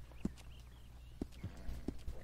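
A horse's hooves clop in Red Dead Redemption 2. A few soft, spaced hoofbeats sound faintly over a quiet background.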